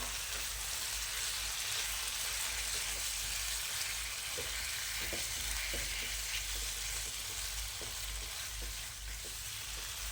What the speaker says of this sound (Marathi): अशा पद्धतीने हे सारण सगळं व्यवस्थित मिसळून घ्या.